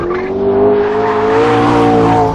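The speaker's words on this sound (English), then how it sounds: "Acceleration of the P1 feels stronger than in the 918, but not coming off a corner." McLaren P1 supercar, two-wheel drive on Pirelli tyres, accelerating hard: a loud, close engine note climbing steadily in pitch, with a hint of tyre noise at the start and no talk.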